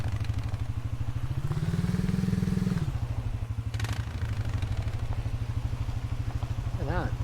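ATV engine running during a ride in the video game Subsistence, a steady, rough motor drone that rises in pitch briefly then settles back, with a faint clatter partway through.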